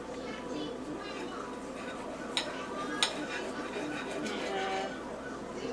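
A knife cuts through an air-fried steak on a plate, giving faint scraping with two sharp clinks of metal against the dish over a low steady background hum.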